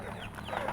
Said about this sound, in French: Là, c'est les poulets locaux, la zone des poulets